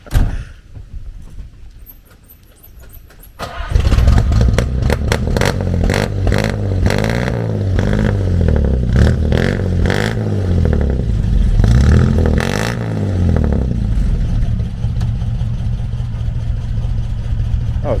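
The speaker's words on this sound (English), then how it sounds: "Do you mind if we hear it run a little?" A 1953 Chevy Bel Air engine with glass-pack mufflers sits quiet at first, then roars to life and revs repeatedly, rising and falling in loud bursts before settling into a rumbling run.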